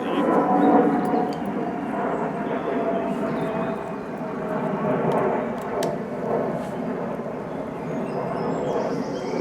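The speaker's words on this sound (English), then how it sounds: "sorry about the plane, I seem to be directly under a flight path today." A fixed-wing airplane passes overhead along a flight path outdoors, a steady broad roar that stays loud and continuous throughout with no talking.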